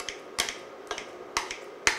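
Kitchen scissors snip through peeled Italian tomatoes, giving four sharp, evenly spaced clicks about half a second apart, close and fairly loud, with no talk.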